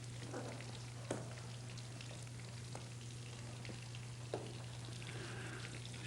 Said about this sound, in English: Chef is keeping an eye on the frying.